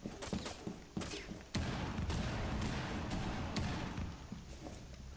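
Gunfire in a Rainbow Six Siege match, a quick cluster of sharp shots followed by a loud sustained burst of fire and rumble, then scattered impacts, heard without talk.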